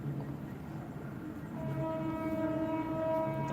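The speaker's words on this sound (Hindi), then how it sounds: "ये लो ट्रेन भी आ गई बैकग्राउंड म्यूजिक देने।" A train in India rolls by outside during a live online session, its steady rumble rising midway as a long sustained horn tone sounds over it, fairly close and continuous.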